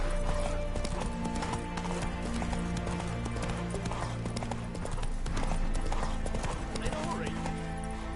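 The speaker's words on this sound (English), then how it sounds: "Run, Roach." A horse gallops in The Witcher 3 with steady, close, rhythmic clip-clopping hooves, a snort or whinny, game music underneath and someone speaking over it.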